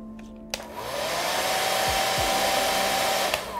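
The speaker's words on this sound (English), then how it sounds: "Hair dryer locks it all into place too." A hair dryer clicks on and blows with a steady, loud whooshing roar close by, its pitch shifting slightly as it runs.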